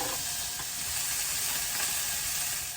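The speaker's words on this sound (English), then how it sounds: "So I'm gonna add the jalapeno and the red onion. Let that soften a little bit" Chopped jalapeno peppers and red onion frying in a pan, a steady close sizzle and hiss with faint stirring scrapes, no voices.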